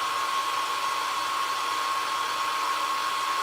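A hair dryer blows in a steady, unbroken whoosh with a faint high whine, running close by without pause while drying craft paint.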